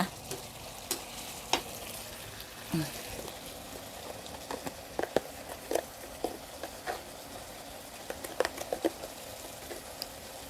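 Minced soft pork ribs stir-fried with holy basil for Thai kra pao: a steady low sizzle in the pan, broken by scattered sharp spatula scrapes and clinks, mid-distance and fairly quiet.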